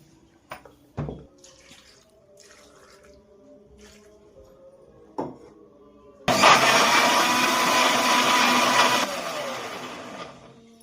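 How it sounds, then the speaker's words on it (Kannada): Mixer grinder grinding carrot pieces, starting after a few soft knocks and taps as a loud, steady whir that runs for about three seconds and then tapers to a lower hum. "ಈ ತುಂಡುಗಳನ್ನು ಮಿಕ್ಸಿಗೆ ಹಾಕಿ ಮೃದುವಾಗಿ ಗ್ರೈಂಡ್ ಮಾಡ್ಕೋತೀನಿ."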